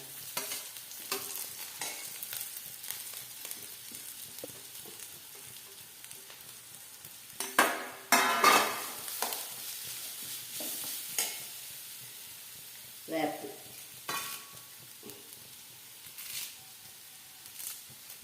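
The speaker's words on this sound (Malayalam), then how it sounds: "അരമുറി തേങ്ങ ചെരുകിണ്ട് ഒരു അഞ്ചെട്ട് ചുവന്നുള്ളി കുറച്ച് വെളുത്തുള്ളി വേപ്പല ഇട്ടിട്ട് ആദ്യം വറുക്കും" Grated coconut, shallots, garlic and curry leaves sizzle and crackle in hot coconut oil while a spoon stirs and scrapes, with occasional louder pops and clatters; no voices.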